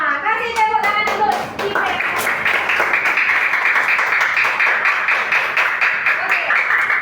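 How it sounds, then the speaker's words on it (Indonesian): Schoolchildren in a primary classroom clap their hands together in a steady burst, loud and close, with a few young voices and a teacher speaking at the start. "Kasih tepuk tangan dulu"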